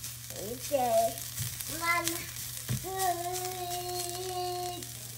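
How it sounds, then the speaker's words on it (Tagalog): Bamboo shoots sauté in a pan with a soft, continuous sizzle underneath, partly masked by people talking and a voice close by. "Yan, gisa lang natin kunti."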